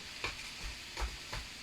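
Spinach with shrimp, the spinach frozen, cooking in a pan: a low, quiet sizzle with three soft stirring scrapes spaced about a third of a second apart, no voices.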